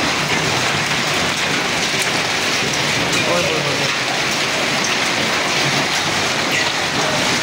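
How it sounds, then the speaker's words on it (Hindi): Dense, steady pelting of heavy hail on surfaces during a hailstorm in Taxila, a loud continuous hiss with scattered sharp impacts throughout. "ओले शुरू हो गए, बड़े शदीद और बड़े ख़तरनाक किस्म में।"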